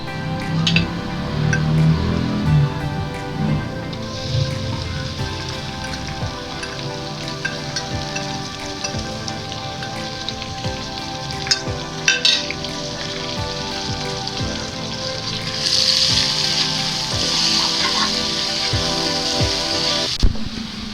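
Tomatoes hitting a hot pan of ginger garlic paste for chicken karela gosht make a steady, loud, rain-like sizzle with scattered crackles that runs for the whole stretch and swells near the end, with no talk over it.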